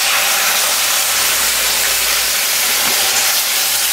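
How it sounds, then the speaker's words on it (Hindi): Milk hits hot roasted besan and wheat flour in ghee, giving a loud, continuous sizzling hiss that fills the whole moment without any voice. "तो अब मैं डाल दूंगी इसमें दूध"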